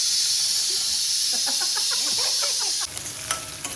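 Mustard seeds, urad dal, curry leaves and five dried chillies sizzling in hot oil for a banana palya: a steady loud hiss with crackling pops, shifting after a moment into a quieter sizzle with sharp spits.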